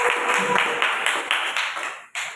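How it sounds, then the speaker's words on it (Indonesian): Scattered clapping from a classroom of students applauding a group of presenters, a burst of close, uneven hand claps that thins out before a final short clap. "Tepuk tangan untuk kelompok itu."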